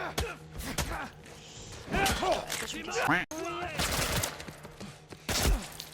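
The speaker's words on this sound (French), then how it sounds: "Le fusil d'assaut!" Assault rifle fire sounds in The Last of Us video game as short sharp bursts of shots spread through the scene. Voices and other game sounds run throughout, and some of the shots are loud.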